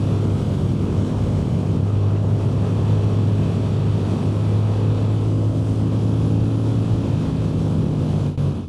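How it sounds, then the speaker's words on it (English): A CFMOTO 450 CL-C motorcycle engine drones smoothly and steadily at high revs with wind rush, continuous and loud, heard while riding with no talking. "Wow, what a fun motorcycle. The engine doesn't vibrate at all."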